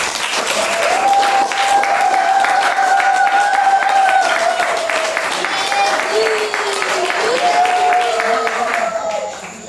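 A church congregation applauds loudly and steadily, dense continuous clapping with a sustained sung or voiced tone riding over it.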